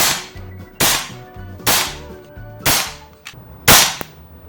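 A BRK Ghost air rifle fires ZAN slugs: five sharp, loud, close cracks spaced about a second apart, each ringing briefly, with no talking.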